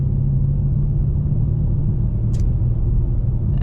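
A 2020 Dodge Challenger Scat Pack Widebody's engine holds a steady, loud low rumble throughout, with a brief faint click partway in and no voices.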